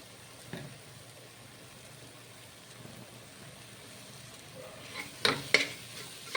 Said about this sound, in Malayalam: അപ്പോൾ അത് മിക്സ് ചെയ്യുക.